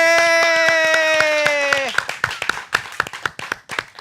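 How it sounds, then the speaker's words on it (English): Audience clapping in sharp, irregular bursts after a sustained tonal musical chord fades out, the claps close and fairly loud, with some voices mixed in. "Ready, everybody, to clap?"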